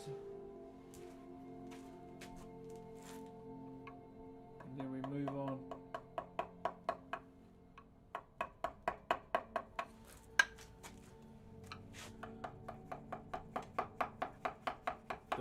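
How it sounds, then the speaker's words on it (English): Regular taps of a mallet driving a V chisel through wood during Maori whakairo carving, with rhythmic bursts of sharp knocks, some spaced and some in quick runs, close by, after a brief murmur of voice. "We'll just use the V chisel. Do a couple cleans."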